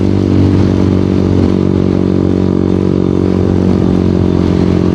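A Honda Winner X 150 motorcycle engine hums steadily and loudly while being ridden, a continuous close drone with some light clatter and no talking.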